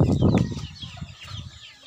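A straight comb pumpkin rooster gives a few low, throaty clucks close by, loudest at the start and then trailing off into quieter grunts within two seconds.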